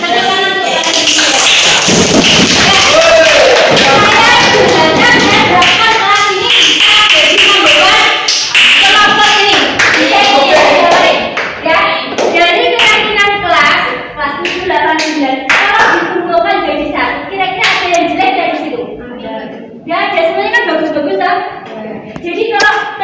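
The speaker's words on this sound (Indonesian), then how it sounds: "Tepuk tangan untuk kalian semua." A school group of students claps together in loud, dense applause, sustained and steady for the whole stretch before gradually thinning into scattered, uneven claps.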